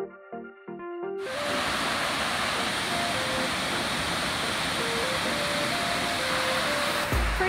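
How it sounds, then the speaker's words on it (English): A waterfall in Crater Lake National Park pours in a steady, full rushing roar that starts abruptly after a second of quieter sound with faint tones, then continues unbroken and fairly close. "Pretty waterfall."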